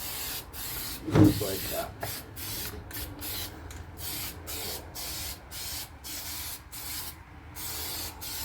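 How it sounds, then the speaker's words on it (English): An aerosol can lays a light coat of sealer onto Ford F-150 trim, sounding as a steady broadband hiss in short repeated bursts, and someone speaks briefly near the start. "We're just going to put a light coat on of sealer."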